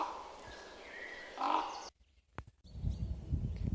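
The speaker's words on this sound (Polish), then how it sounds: "Głos kruka." A raven calls in a forest, giving a few hoarse caws at moderate distance amid quiet outdoor ambience and some nearby rustling.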